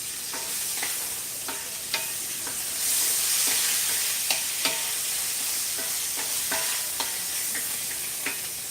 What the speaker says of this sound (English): All right, so we're getting this bacon cooked.